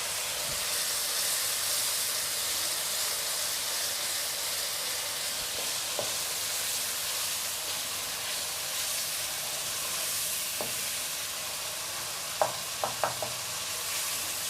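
Masala for rajma frying in a pan, a loud, steady hissing sizzle filling the whole stretch, with a few faint clicks of a spoon against the pan near the end and no voices.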